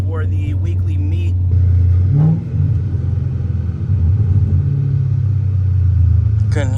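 A 5.7L HEMI Chrysler 300C on the road, engine rumbling steadily with a brief rev and small downshift blips, muffled as if heard from inside the car with windows up, plus some talk.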